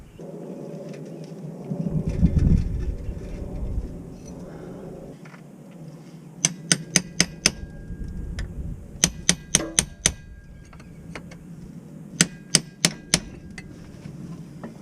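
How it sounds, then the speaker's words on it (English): A wedge or prying tool being hammered to pry the rear axle out of a 2003-2008 Honda Pilot, heard as sharp metallic strikes in quick clusters of four or five, loud and close, separated by quieter handling noise. "So we're going to try to get some kind of wedge or prying tool right up in here"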